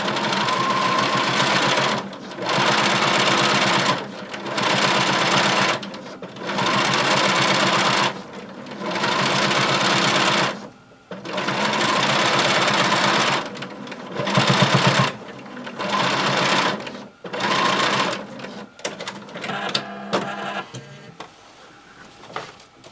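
A sewing machine stitches a circle skirt in several steady whirring bursts, loud and close, with brief pauses between runs and softer handling noises at the end.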